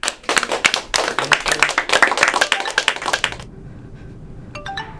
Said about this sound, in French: on applaudit Michel